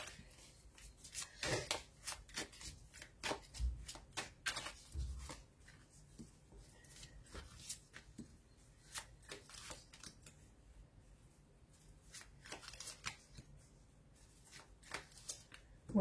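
Tarot cards being shuffled for a reading, with repeated soft riffling and sliding bursts coming close and fairly quiet, broken by short pauses throughout.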